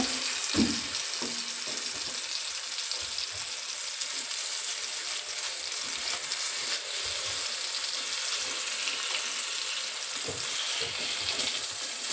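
Fish frying in a pan for a Sunday meal gives a loud, continuous close sizzle and hiss with faint spattering crackles and a few soft knocks, no voices over it.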